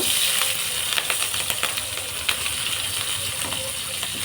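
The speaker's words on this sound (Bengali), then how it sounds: "আমি ফোড়নের জন্য একটু জিরে দেব অল্প করে" Cumin seeds tempering in hot oil in a pan for a tengra fish and potol curry, giving a steady close sizzle with scattered crisp crackles and pops.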